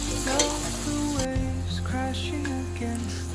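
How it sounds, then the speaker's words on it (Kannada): Four or five medium onions frying toward golden brown in a pan, giving a steady sizzle with occasional stirring scrapes, close and continuous, with a low hum running underneath throughout. "ಇದನ್ನು ಚಲೋ ತನಕ ಫ್ರೈ ಮಾಡ್ಕೋಬೇಕು. ಮೀಡಿಯಮ್ ಗೋಲ್ಡನ್ ಫ್ರೈ ಆಗ್ಬೇಕು ಅಷ್ಟೇ."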